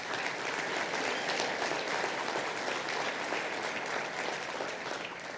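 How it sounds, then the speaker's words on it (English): Sustained applause from an audience at a mayor's State of the City address, honoring the color guard; a broad, even wash of many hands clapping continuously, moderately distant in a large room, with no talk over it. "So let's give a special applause to those guys."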